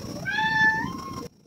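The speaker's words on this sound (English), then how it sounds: "Oh my gosh, that's my cat." A house cat lets out one clear, drawn-out meow close by indoors, rising and then falling before it cuts off abruptly into silence.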